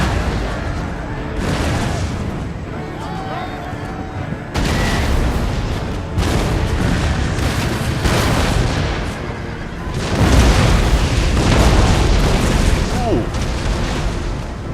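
Cannon fire from a battle in the strategy game Empire: Total War, with a Swedish army facing cavalry. Dense, overlapping booms and crackling volleys roll on continuously and loudly throughout.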